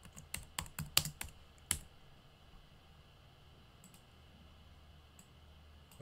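A quick burst of typing on a computer keyboard, about a dozen crisp clicks in uneven rhythm, stops abruptly, leaving near silence with a couple of faint stray taps later.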